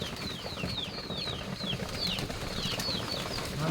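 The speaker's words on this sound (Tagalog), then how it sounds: "Daming ibon guys Sobrang dami." Steady fluttering of many wings from a large flock, with repeated high chirps and calls scattered over a constant background hum.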